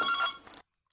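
A telephone rings once, a bright multi-tone electronic ring that cuts off abruptly after about half a second, followed by silence.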